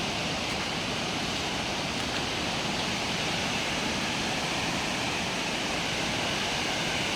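Strong floodwater rushing through a river at Science Park, Cabuyao, Laguna, a dense, steady roar that fills the whole stretch without a break, loud and close, with no voices.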